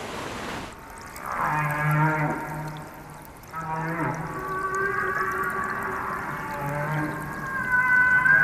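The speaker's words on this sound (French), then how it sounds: "Les baleines, évoluant dans un même océan, chantent des airs identiques." Whales singing in the ocean, long low moaning notes and sliding tonal calls with rich harmonics, loud and close, one phrase after another with short gaps, no voices over them.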